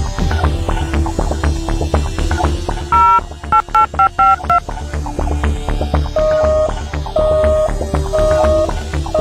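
Telephone keypad tones beep out a number in quick succession, followed by a steady, evenly repeating busy signal on the line, all close and clear.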